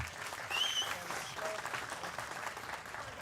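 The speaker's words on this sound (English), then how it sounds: "Put your hands together for Laura Vogelsang." An audience applauds a female powerlifter weighing in at 81 kilos at a press conference, a burst of steady clapping with a whistle near the start, easing off slightly toward the end.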